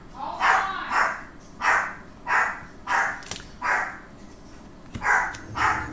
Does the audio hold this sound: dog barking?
yes